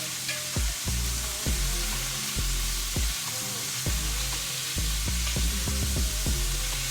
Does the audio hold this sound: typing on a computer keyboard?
no